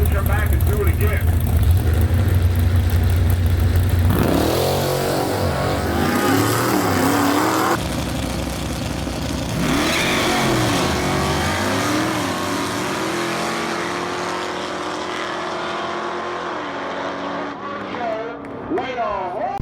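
Plymouth Barracuda drag cars launching off a Pro Tree heads-up start, loud engines roaring and revving through the run, with an announcer talking over the noise as the cars pull away.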